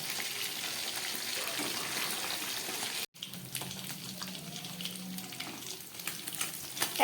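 Steady crackling sizzle of fish frying in hot oil over low gas, close by and continuous, with a brief cut partway through and faint clinks.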